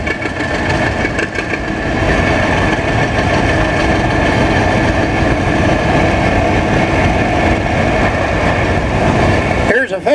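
A 1963 John Deere 5020 tractor engine runs steadily and loudly close by throughout, a continuous low rumble with voices in the background.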